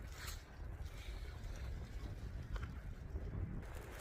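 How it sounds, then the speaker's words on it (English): Wind picks up during a snow blizzard in the Bronx, New York, as a low, steady rumbling roar of gusts buffeting the microphone, faint and continuous. "the wind is picking up"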